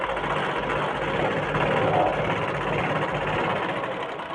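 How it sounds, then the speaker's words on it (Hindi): Sewing machine running steadily as blouse pieces are stitched with a half-inch margin, a continuous close mechanical whir with no pauses and no talking. "इन दोनों पार्ट को ऐसे रख के बिल्कुल हाफ इंच का मार्जिन छोड़ते हुए बिल्कुल सिलाई कर लेना है हमको इस तरह से"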